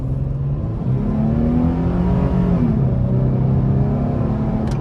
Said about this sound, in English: So we're gonna give some throttle here.